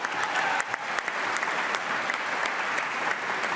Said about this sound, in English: I'm clapping on that one.